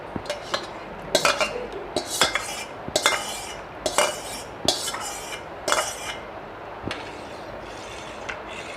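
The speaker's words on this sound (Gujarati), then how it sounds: "જેને આપણે ચમચાની મદદથી સારી રીતે મિશ્રણમાં મિક્સ કરી લેશું." A spoon stirs custard apple pulp into a chilled, thickened rabdi mixture in a bowl, giving repeated metallic scrapes and clinks in an irregular rhythm, close and moderately loud, with no speech.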